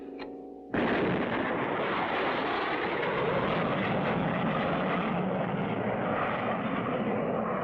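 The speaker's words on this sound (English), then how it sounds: "Our first successful attempt to really get a rocket off the ground." Cartoon rocket carrying three passengers blasting off after a countdown, a sudden loud roaring rumble that bursts in and holds steady, dense and sustained, with no talk over it.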